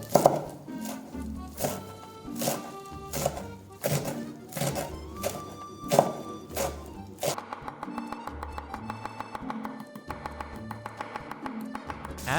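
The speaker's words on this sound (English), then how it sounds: "Chop the parsley very finely." A knife chops 100 grams of fresh parsley finely on a cutting board, with rhythmic close thuds that start fairly slow and then become rapid and evenly spaced, set against background music.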